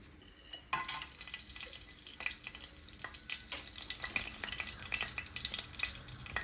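Cinnamon, cardamom, cloves and bay leaf fry in hot oil with a continuous crackling sizzle, punctuated by sharp pops and the scrape of stirring, close and clear with no talking.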